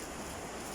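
Steady broadband hiss of rain, dense and unbroken, with no voices or other distinct sounds.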